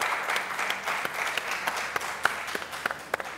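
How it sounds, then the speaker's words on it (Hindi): Studio audience on a Pakistani game show applauding, a steady wash of clapping with sharper individual claps popping out, moderately loud and without speech. "आपकी बहुत सारी तालियां"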